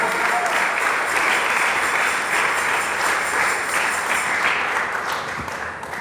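A church congregation claps loudly and continuously, a thick wall of applause filling the room for about six seconds with no break.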